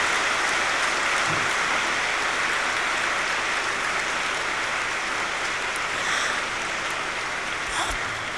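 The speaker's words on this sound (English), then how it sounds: "And everyone is clapping" An assembly gathered for a spiritual murli class claps steadily as a group. The dense wash of applause holds evenly for about eight seconds at moderate distance, with a couple of brief sharper knocks.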